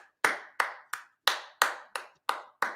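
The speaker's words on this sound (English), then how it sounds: "You give yourself a hand clap." Single pair of hands clapping, eight crisp separate claps at a slow, slightly uneven pace, close and clear with quiet gaps between, no talking.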